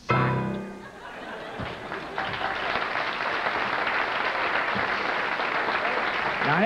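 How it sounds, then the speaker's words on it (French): A theatre audience at a Jean Lapointe show breaks into sustained applause with some laughter, rising after a brief spoken moment at the start and holding as a broad, even wash of clapping. "Non, laissez faire les applaudissements."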